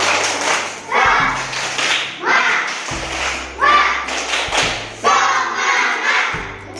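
A class in a school classroom does a rhythmic spirit clap: patterned bursts of many hands clapping together in a repeating beat, mixed with children's voices chanting along.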